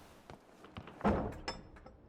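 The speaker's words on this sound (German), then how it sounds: "die Tür machen wir zu" A door swung shut inside a building in the Generation Zero video game, heard as one solid mid-range thunk with a short tail, set among quieter scattered clicks and knocks.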